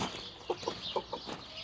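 Hens in a coop cluck during egg collection, four short soft clucks spaced at an uneven rhythm, close by over a low hum of background noise, with no talking.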